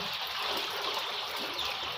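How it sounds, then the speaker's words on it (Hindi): Water is poured steadily into a container of medicine for poultry, a continuous close splashing trickle with no pauses. "ये भी पानी इसमें डाल रहे हैं।"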